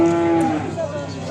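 A calf at a livestock market in Beyləqan lets out one close, loud moo that starts strong and fades over about a second amid faint crowd background.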